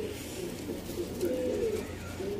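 Soft, low male pigeon cooing repeats in short throaty phrases, close by, over a steady background rumble.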